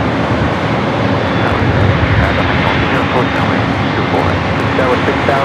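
A jet airliner roars continuously at Los Angeles LAX airport, loud and close, as a broad steady engine rumble with a voice talking over it.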